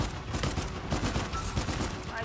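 Gunfire in a shooter video game, a rapid, dense burst of automatic shots crackling continuously at moderate volume, with a player's voice mixed in.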